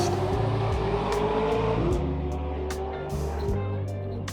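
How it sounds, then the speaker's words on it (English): Loud V8 Supercar engines scream around the Bathurst circuit, a continuous roar with pitch rising and dropping through revs and gear changes, echoing and sustained with no talk. "The screams of the V8 engines echoing through it though"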